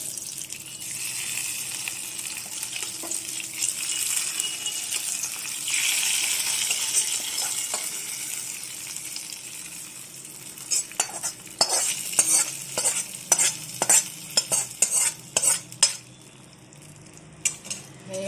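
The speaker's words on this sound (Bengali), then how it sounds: "ফোড়নটা করে দিয়ে দিচ্ছি" Spices for tempering fry in hot oil for a thin raw mango and okra curry, a steady sizzling hiss that later breaks into a series of scraping stirs and metallic clinks from the pan.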